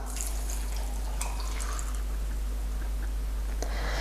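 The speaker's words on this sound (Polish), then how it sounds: "i tę wodę wlewam teraz do garnka" Steady trickle and splash of water being poured into a pot for making spiced coffee with amaretto, continuous and close, with no talking.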